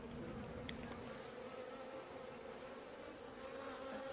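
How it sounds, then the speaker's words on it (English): A swarm of honey bees buzzes densely inside a hive, a steady, close, continuous hum that holds at an even level throughout with no voices. "There are a lot of bees in here, yeah."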